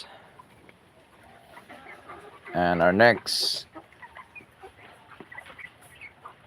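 Chickens cluck and call loudly for a couple of seconds after being fed, with softer scattered farmyard sounds around them and a person speaking briefly.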